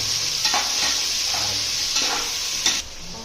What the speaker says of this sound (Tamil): இது சின்ன வெங்காயம், போட்டு நல்லா வதக்கிக்கணும்.